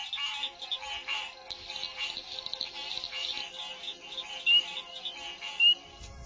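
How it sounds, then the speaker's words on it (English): Spring frogs call through the night in a Georgia swamp, a dense, continuous chorus of overlapping trills and chirps at moderate distance, with a few sharper calls standing out near the end. "to the nighttime frog calls"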